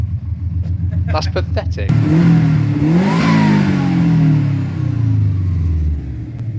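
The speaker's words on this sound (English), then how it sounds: "Give her a rev." Engine of a 1997 Mazda RX-7 FD3S rotary revved up in a garage, rising to a loud rumbling peak then settling back, with people talking briefly before and over it.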